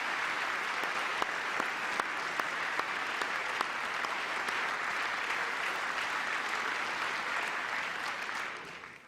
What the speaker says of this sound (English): You're not gonna clap for that.